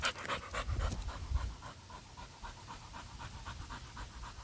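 A nine-year-old dog pants steadily after exercise, close and fairly quiet, with rapid rhythmic breaths continuing throughout with no talking.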